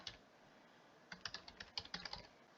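Rapid typing on a computer keyboard, about a dozen crisp clicks in a quick irregular burst after one lone tap, close and fairly quiet, with no talk.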